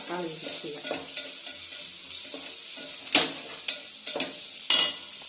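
Crushed ginger and garlic sizzle in hot oil in a pan for a kurma, with a spoon scraping and stirring in several sharp clinks and scrapes over the constant frying hiss.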